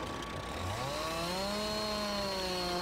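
A Jonsered chainsaw in Farming Simulator 19 runs steadily and loudly, its engine whine rising in pitch and then holding at high revs throughout, with no talking over it.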